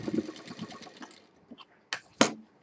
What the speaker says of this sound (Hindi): आप हल्की सी मशीन उठा करके कपड़े को सेट कर लें, उसके बाद सिलें।